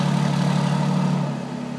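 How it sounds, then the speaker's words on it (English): A 2017 Alfa Romeo Giulia Quadrifoglio engine running with its dual exhausts, a steady, close, loud low-pitched idle rumble that eases slightly toward the end. "I'm about to try to start it up for you guys so you can get an exhaust note."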